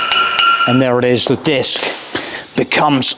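A few sharp metal hammer taps knock a worn brake disc free from the hub of a Fiat Ducato motorhome van, each rap short and close, interleaved with someone talking.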